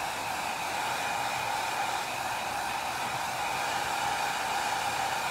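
A hair dryer drying paint on a craft project roars as a loud, steady airy drone from start to finish, close by and with no talking.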